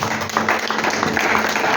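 Church congregation applauding as they are seated during a worship service, a dense, steady wash of clapping from many hands that fills the room for the whole stretch.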